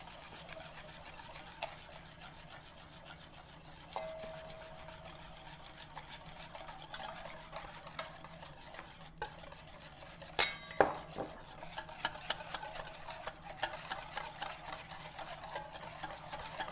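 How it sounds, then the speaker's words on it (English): A whisk clinks and scrapes steadily against a bowl while oil is slowly added to Caesar salad dressing, quiet rhythmic tapping with a few sharper knocks partway through. "I'm just going to beat this around just a little bit"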